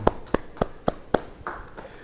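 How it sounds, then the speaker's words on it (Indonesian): A small church congregation at a Zoom Bible study applauding: five or six distinct, evenly spaced claps, close and moderately loud, then a softer scattered patter trailing off. "Yang mau demikian beri tepuk tangan bagi Tuhan."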